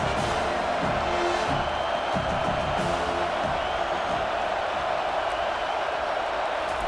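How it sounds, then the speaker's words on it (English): Stadium crowd noise from the College Football 25 video game, James Madison vs. USC, fills the scene as a dense, continuous roar with swelling cheers and rhythmic chanting layered over it. "This crowd trying to make life miserable for this offense."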